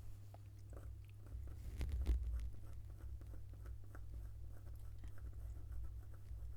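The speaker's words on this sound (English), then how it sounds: "pencil on the paper, but it might sound like I'm going in quite heavily, but I'm not." Coloured pencil shading on paper while drawing a robin's feathers, a steady soft scratchy rasp of strokes over a low background hum, close and continuous without speech.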